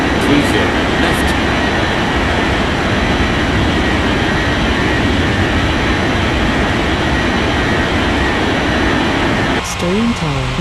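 A jet airliner in Unmatched Air Traffic Control roars steadily as it takes off, a loud, continuous engine rumble that holds throughout, with a brief radio voice near the end.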